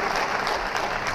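Steady applause from an award ceremony audience, many hands clapping in a continuous, moderately loud wash with no voices.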